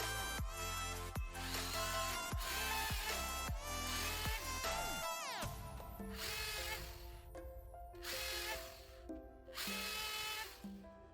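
A power drill whirs in repeated bursts while drilling angled holes in wood, its motor pitch rising and falling as it bites in, with short pauses between runs.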